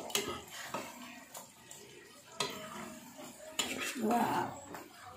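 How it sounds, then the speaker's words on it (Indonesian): Fried chicken being stirred in a pan, with several clanks of utensil on metal and scraping, interrupted by short bursts of nearby speech. "Saya akan aduk-aduk."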